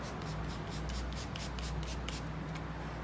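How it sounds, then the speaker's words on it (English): Meguiar's Hybrid Ceramic Wax is sprayed onto a car panel in a series of short, hissing bursts close to the microphone, over a low background hum. "I'm even gonna spray it on the panel."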